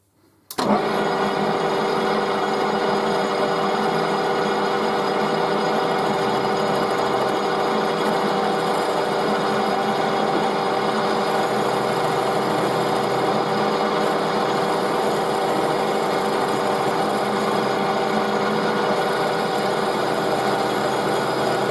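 A metal rod for a copper-topped lamp post restoration being lightly skimmed on a lathe: a loud, steady machining whine and hum that runs without a break, with no talk over it.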